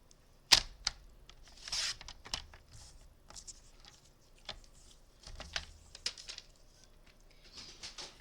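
Paper for a handmade spring card cut with a trimmer, a sharp snap followed by scattered light clicks, scrapes and rustles, close and quiet with no talking.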